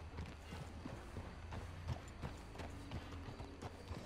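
Horse hooves clip-clopping in the video game Red Dead Redemption 2: a steady, fairly quiet rhythm of hoof steps over a soft background, with no voices.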